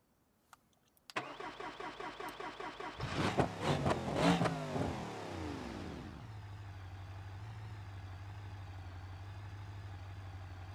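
A simulated car engine in BeamNG.drive, described with worn-out piston rings and starving of oil, cranks in rapid rhythmic pulses, fires, revs hard in several loud surges, then settles into a low, steady idle.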